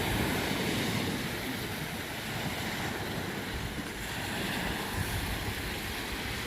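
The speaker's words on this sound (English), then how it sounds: "I do love the sound of the sea." Steady roar of sea waves washing onto a shore, heard from a fishing bench on the coast, with wind buffeting the microphone throughout and no talking.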